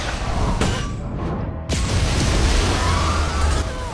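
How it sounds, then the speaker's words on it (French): A landmine detonates in a film scene, a loud broadband blast that cuts in sharply after a brief lull and leaves a rumbling, sustained roar trailing on through the rest of the moment. "elle échappa de justesse à l'explosion"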